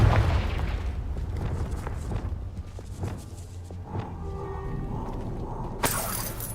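A Confringo blasting spell explodes in the game Hogwarts Legacy, a rumbling, shattering burst with crumbling debris that settles over several seconds before a sharp bright crack near the end.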